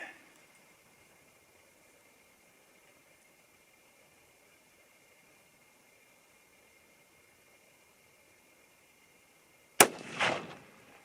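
A single loud, sharp rifle shot from a 6.5 Creedmoor firing a 100 grain Hornady ELDm or Nosler BT bullet over Varget powder at about 3,200 fps, arriving after nearly ten seconds of quiet outdoor hiss, followed by a brief rumbling echo.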